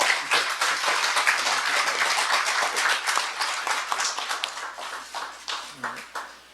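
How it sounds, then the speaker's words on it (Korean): Applause from the audience at a televised political debate forum as a provincial governor is introduced, sustained clapping that gradually thins into scattered claps toward the end. "박수 한번 보내주십시오"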